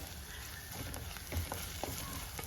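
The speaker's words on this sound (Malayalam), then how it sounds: "അതുവരെ നമുക്ക് ഒന്ന് മൂപ്പിച്ചെടുക്കാം നമ്മുടെ ദേ ഉള്ളി ചുവന്ന് വന്നിട്ടുണ്ട്" Onions fry gently in a pan, giving a soft, steady sizzle with a few faint stirring clicks, quiet and close with no talking.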